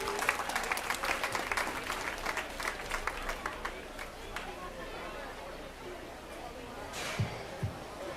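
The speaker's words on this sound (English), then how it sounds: "let's give both of those exhibitors and all these exhibitors in the first class of Berks a round of applause" Crowd applause for exhibitors at a youth swine show fills the arena, steady clapping under crowd chatter that gradually thins out, with a couple of low thumps near the end.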